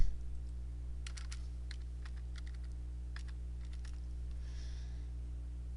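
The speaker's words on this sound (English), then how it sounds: "You can go ahead and type in your name, the date," Someone types a name and date on a computer keyboard, producing scattered soft key taps in short runs over a steady low hum.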